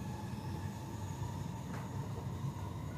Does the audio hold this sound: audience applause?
no